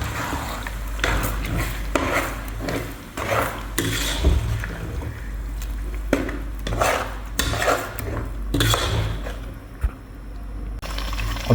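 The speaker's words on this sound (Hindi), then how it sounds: "अच्छी तरह दोस्तों मिक्स कर लिया" A keema mixture is stirred in a pan, the spoon scraping and clattering in repeated strokes over a low, steady rumble, close and continuous.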